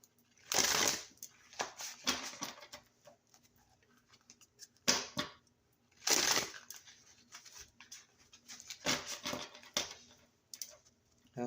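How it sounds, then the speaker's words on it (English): Stiff tarot cards are shuffled in several sharp riffling bursts with short pauses between them, close and crisp in a quiet room. "Just 2 more shuffles."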